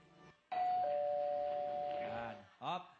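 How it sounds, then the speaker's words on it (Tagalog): An electronic doorbell chime rings out once, a sustained clear tone lasting a couple of seconds, with a brief voice just after. "Doorbell muna. Doorbell muna. Doorbell."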